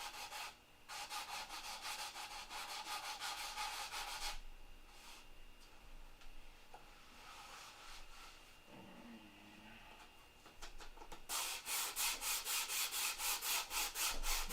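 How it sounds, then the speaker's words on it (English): Sanding of a fabric-covered aircraft part in a hangar, a steady rasping rub in long strokes with brief pauses between passes, close and fairly quiet, no talking. "You can hear the fabric in this as you sand."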